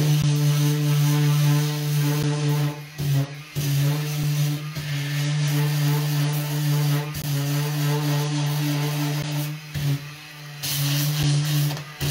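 An electric sander drones steadily with a low hum, its pitch dipping briefly a few times as it presses and lifts against the surface, close and loud.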